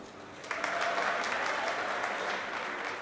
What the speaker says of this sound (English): So please, a massive round of applause for Paula Radcliffe